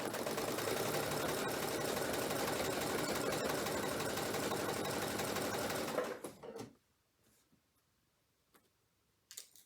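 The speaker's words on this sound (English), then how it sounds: "I'm going to continue to stitch" A sewing machine stitches a quilt block in a steady, loud mechanical whir with a rapid ticking rhythm for about six seconds, then stops, leaving near silence with a few faint clicks and handling sounds.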